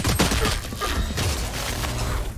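Dense bursts of video game gunfire, with rapid shots and impacts layered over busy in-game noise, loud and continuous throughout the short stretch.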